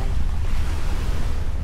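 Sea waves wash at East Coast Singapore at night, a loud, constant low rumble of surf mixed with heavy wind buffeting the microphone.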